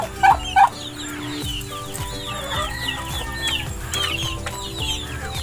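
Chickens and chicks in a backyard farm in the countryside, a couple of loud near clucks at first, then steady soft clucking and peeping from several birds.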